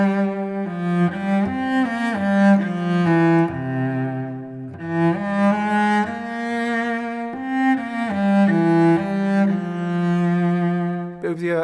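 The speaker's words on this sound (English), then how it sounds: "go to Israel, and they use Klezmer scale, and it will sound like this." A melody in a Klezmer scale flows on a sustained, singing instrument, with sliding ornamented notes and short pauses between phrases, played solo and fairly loud.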